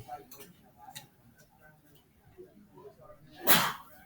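A single sharp sneeze bursts out loudly near the end, after quiet stretches of faint ticking and low background talk.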